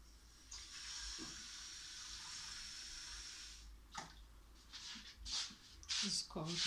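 Water running from a kitchen tap in a steady hissing stream for a few seconds, then stopping amid clinks and handling noises while someone speaks.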